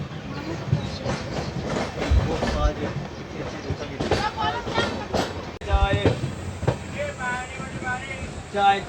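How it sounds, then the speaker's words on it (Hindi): The Tamil Nadu Sampark Kranti Express eases slowly onto the main line near Bhopal, with uneven wheel clatter and thumps over rail joints, a rumbling undertone and a brief metallic whine late on. "चलिए अपनी गाड़ी धीरे धीरे मेन लाइन पे आ रही है।"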